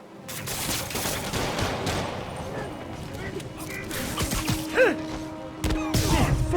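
Gunfire aimed at Spider-Man in Spider-Man Remastered, bursts of shots and impacts amid loud combat clatter and crashes, with voices talking over the fight.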